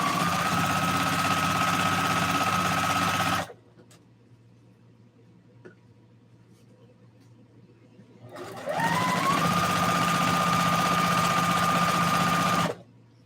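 Sewing machine stitching a tutu, a loud close steady whir running for several seconds, pausing briefly for quiet handling, then running again at an even speed before stopping.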